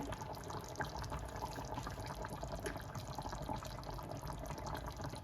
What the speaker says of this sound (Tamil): பால் ஊற்றி வச்சு தேங்காய் பால் ஊற்றிட்டு